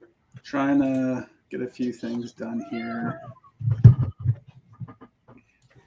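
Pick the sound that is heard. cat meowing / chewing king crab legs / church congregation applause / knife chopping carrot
cat meowing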